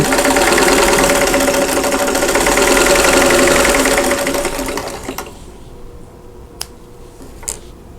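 A sewing machine stitches quilt block pieces in a steady whirring run for about five seconds, then stops, leaving a quiet room with a couple of small clicks.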